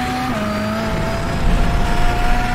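A VW Beetle Lite rallycross car in iRacing, on the Daytona RX circuit, accelerates out of a tight hairpin, its steady engine drone dipping then holding a constant pitch, close and continuous with no talk.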